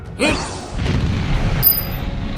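A single loud boom bursts out in a dubbed animated series, followed by a rumbling, crackling tail that fades over a couple of seconds.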